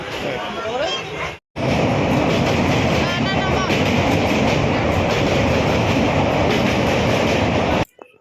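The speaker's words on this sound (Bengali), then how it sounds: "বন্ধুরা ট্রেন ছুটে চলেছে দক্ষিণেশ্বরের উপর দিয়ে" Kolkata–Balurghat passenger train running over the rails near Dakshineswar, a loud, steady rumble and rattling clatter heard from inside the coach for several seconds, with faint background chatter, before cutting off abruptly.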